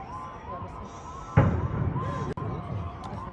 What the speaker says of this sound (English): So you can hear that's another explosive device going off